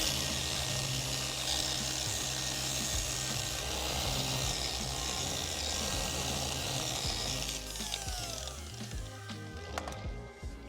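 A car polisher running steadily on a 2010 BMW 335i M Sport's paint to remove light emblem ghosting, a loud continuous machine whir with rubbing texture that shifts slightly near the end.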